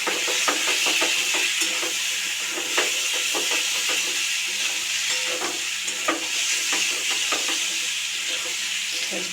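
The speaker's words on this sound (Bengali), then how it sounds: "মশলাটা মশলা হয়ে যাবে আর আলুগুলো ভাজা ভাজা হয়ে যাবে।" Spiced boiled potatoes fry in a hot pan, giving a steady, loud sizzle with frequent scraping clicks from stirring throughout.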